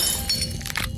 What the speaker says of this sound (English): The window shatters.